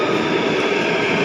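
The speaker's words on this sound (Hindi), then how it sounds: "ये मेट्रो आ गई है, चलते अब।" A Delhi Metro train pulls into Mandi House station with a loud, steady rumble and rolling wheel noise filling the underground platform throughout, with no talk.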